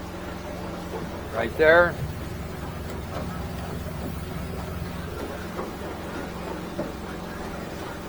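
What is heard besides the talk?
Hewescraft 250 Alaskan boat running on one motor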